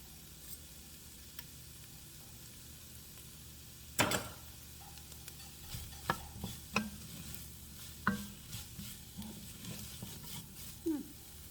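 Two cloves of minced garlic sizzle in hot olive oil for a chicken and wild rice soup, a steady crackle broken by a sharp burst as the garlic goes in and a string of clicks and scrapes from stirring.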